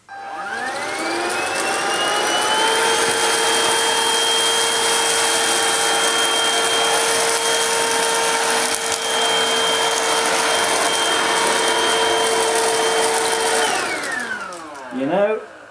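Vax Slim Vac cordless vacuum cleaner picking up dirt, a loud steady motor whine with a rising start-up, running continuously before powering down with a brief falling tail at the end.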